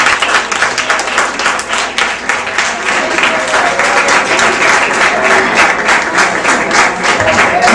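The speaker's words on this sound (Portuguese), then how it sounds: "as palmas exaltam o Senhor Jesus" A church congregation at a children's congress claps together in praise, loud rhythmic applause filling the hall steadily for several seconds, with faint voices underneath.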